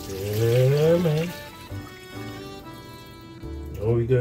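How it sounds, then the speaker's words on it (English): Tap water running into a pot for boiling in a home kitchen while cooking pork chops, kale and potatoes, a steady splashing stream under nearby voices talking. "Now we're going to get some water."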